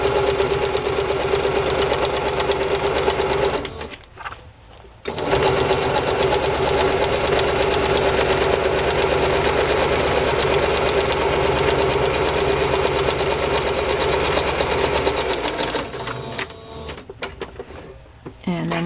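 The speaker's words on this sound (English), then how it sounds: "And then sew across this end" A sewing machine runs in a long steady whir while stitching ribbon across the end of a placemat, pausing briefly near the middle and trailing off with handling noises at the end.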